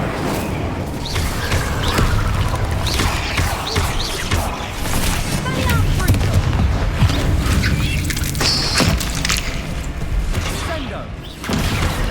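In the video game Hogwarts Legacy, a Confringo spell goes off with explosive booms and thuds amid dense battle noise, several heavy impacts hitting close and loud.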